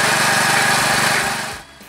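An old cement mixer driven by a small lawnmower engine rattles and chugs loudly and steadily at close range, with a rapid mechanical pulse, before cutting off abruptly near the end.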